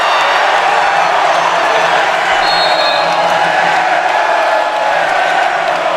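A college women's basketball crowd roars in a dense, sustained wash of cheering and jeering in an indoor gym, loud and unbroken, with faint whistle-like tones briefly on top.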